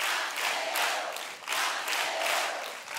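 An audience at a talent show semifinal applauds and cheers in a broad, continuous ovation, swelling and dipping in waves for a few seconds.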